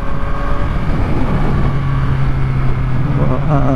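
A Yamaha MT-09 motorcycle engine drones steadily while riding, a loud continuous hum with a low tone that shifts slightly and some wind noise mixed in.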